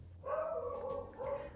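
A dog gives two short, near barks with a whining, yelping tone, loud against a quiet indoor room.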